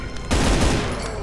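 Gunfire in Brutal Doom Eternal, a loud close burst of rapid shots that erupts suddenly and rolls on for about a second, with no talk over it.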